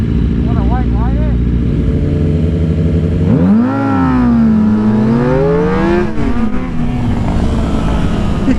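An old school Suzuki GSX-R 750 motorcycle revs and accelerates hard, a close loud engine wail rising and falling through quick gear changes, with wind roar underneath and short revs early on.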